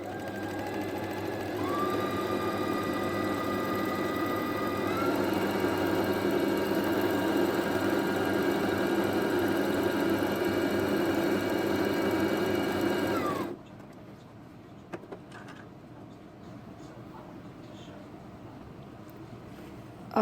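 A sewing machine stitches the edges of a red fabric strip, running in a steady, loud mechanical hum for about thirteen seconds before it stops, leaving faint handling noises.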